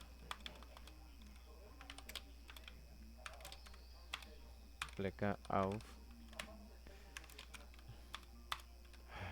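Scattered keystrokes and clicks on a computer keyboard tap out irregularly at close range, with someone speaking briefly in the middle.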